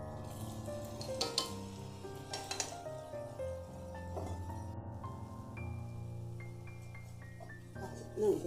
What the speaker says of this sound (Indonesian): Digoreng kayak gini, kayak dijadikan mantou makan.